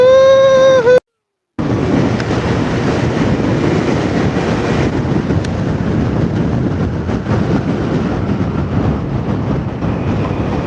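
A rebuilt Yamaha Mio M3 scooter engine revs with a rising whine, cuts out for a moment, then returns as a steady, loud, rough roar that holds close by to the end.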